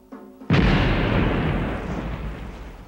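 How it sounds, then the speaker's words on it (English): A single heavy cannon blast from a modern bombardment booms loudly after a brief quiet lead-in, then rumbles and decays over a couple of seconds. "With modern cannon, they bombarded the home capitals of the Shishi in Satsuma and Choshu."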